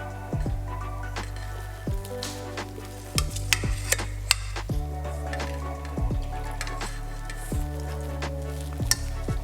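A spoon stirs crawfish into a thick, simmering étouffée with soft bubbling and wet squelches, punctuated by occasional clinks against the pot.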